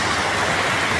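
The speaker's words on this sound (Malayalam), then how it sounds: "ഭയങ്കര കാറ്റും മഴയാണ്." Heavy rain and strong wind are heard from inside an autorickshaw as a loud, dense, unbroken wash of hiss and rushing noise, with no voices.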